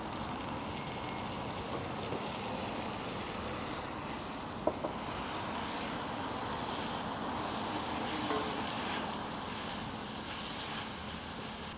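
Grated carrots and onions sizzle in a pan for a shepherd's pie, an even, dense hiss that runs steadily throughout with one small knock midway and no talking.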